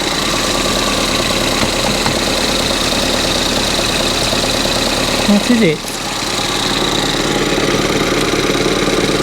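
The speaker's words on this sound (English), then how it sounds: "the engine sounds good and it's idling great now" A Ford Fiesta ST180 engine with a rough idle from a vacuum line fault idles steadily throughout, with a brief voice speaking over it and a short dip partway through before the rumble resumes.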